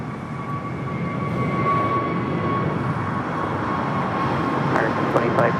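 An Airbus A320neo in Puerto Rican livery roars steadily through its takeoff run at LAX, a broad continuous engine rumble with a faint whine, heard from a distance and unbroken throughout.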